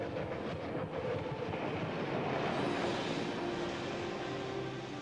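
A train runs steadily on rails at night in wartime, giving a continuous rumble with a clickety-clack texture and no voices.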